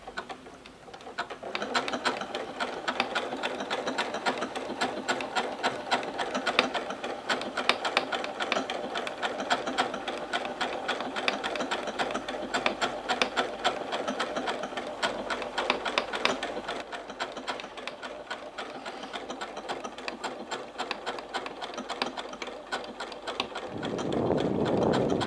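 An embroidery sewing machine runs at slow speed, stitching a repeating pattern into fabric with a steady, fast mechanical clatter of needle and gears that carries on continuously, close up, with no talking.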